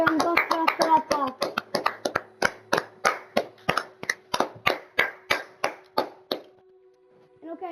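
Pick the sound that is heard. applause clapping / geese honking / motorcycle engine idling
applause clapping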